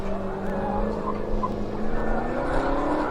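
Drift cars, one with a six-litre engine and one of about two litres, race uphill in a competition, their engines a steady distant roar under broadcast commentary noise.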